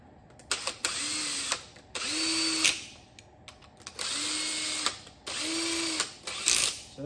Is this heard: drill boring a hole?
yes